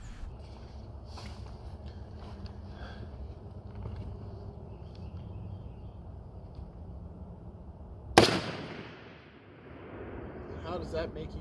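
A single sharp .308 rifle shot striking a steel target at an outdoor range cracks out loudly partway through, ringing and decaying after steady background noise and low chatter.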